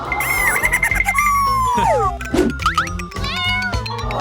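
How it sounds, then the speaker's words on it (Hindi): A cat meows repeatedly, close and loud, with several drawn-out, wavering cries in quick succession and no talking. "यह प्यारी बिल्ली।"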